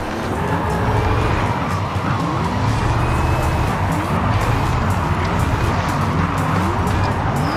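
An electric car drifts in the racing game Forza Horizon 5, its tires squealing and hissing continuously over a low electric drone, with crunching impact thuds mixed in, loud and dense throughout.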